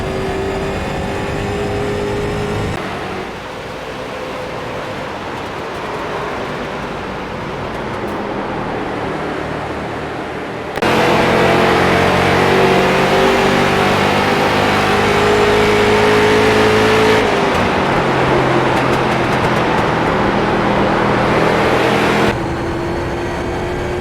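Street stock car engine in the iRacing sim at Richmond Raceway, loud and steady with sustained droning pitch, rising as the throttle opens on the straights and dropping under heavy braking into corners, no talking.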